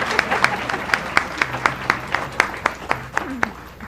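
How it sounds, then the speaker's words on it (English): Sparse clapping from a school board meeting audience, a dozen distinct claps in a loose, slightly irregular rhythm, fairly close, with a brief murmur of voice underneath. "I think they deserve an applause for holding that"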